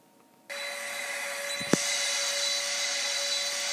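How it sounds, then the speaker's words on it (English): A vacuum cleaner switches on abruptly and runs with a steady, loud whooshing roar and a sustained whine, with a brief knock partway through. "I'm going to suck you with my vacuum cleaner"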